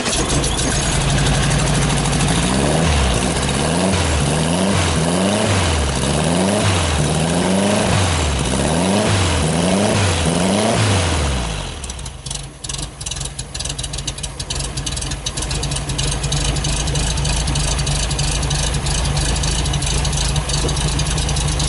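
Volkswagen Fusca engine idling while warming up, a steady, loud, close rumble with a wavering rhythm at first that settles into an even hum.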